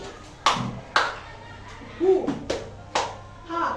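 A teacher in a second-grade classroom leads the 'tepuk semangat velocity' clapping chant: crisp hand claps in a steady rhythm, about two per second, alternating with short chanted vocal syllables, close and clear.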